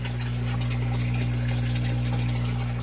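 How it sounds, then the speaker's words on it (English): Water drains out of an aquaponics grow bed with a steady rushing flow, close and continuous over a strong low pump-like hum. "Hear that water coming out."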